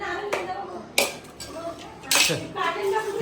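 Plates being washed with water in a home kitchen, with bursts of clattering dishes and clinking cutlery, two sharp louder knocks, and people talking over the clatter.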